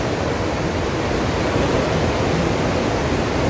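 Steady broadband rush of a waterfall seen along a tourist route between Shiraz and Isfahan in Iran, a constant close wash of falling water with no breaks.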